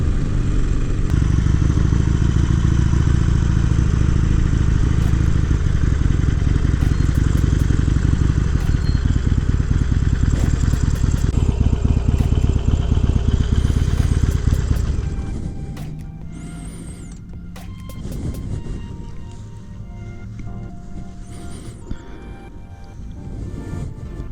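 Harley-Davidson Iron 883 motorcycle riding, its engine a loud, steady low rumble for about fifteen seconds, then dropping to a quieter, uneven idle-like putter with some wind and clatter.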